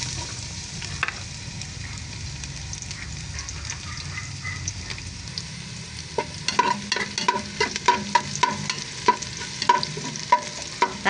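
Garlic sautés in a pan for chicken tinola, a low sizzle building into a busy crackle with frequent spatula scrapes and taps on the pan, close by and without speech.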